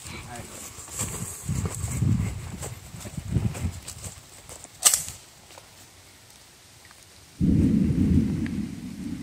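Rain falls outdoors while rolling thunder rumbles in low bursts, one sharp crack midway, and the downpour swells heavily near the end; a voice speaks at times.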